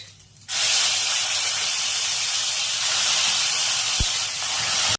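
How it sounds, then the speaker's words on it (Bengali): Tomato paste hitting hot oil tempered with cumin, giving a sudden loud, steady sizzle and hiss that starts after a brief quiet moment and carries on alone, with a small clink near the end. "ফোড়ন রেডি হয়ে গেছে, এবার এর মধ্যে দিয়ে দিচ্ছি টমেটো পেস্ট।"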